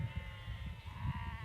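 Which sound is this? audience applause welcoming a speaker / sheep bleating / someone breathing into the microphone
sheep bleating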